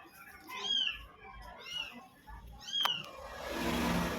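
A mother cat meows near her kittens, giving three clear, rising-and-falling meows at close range, followed by a burst of rustling noise.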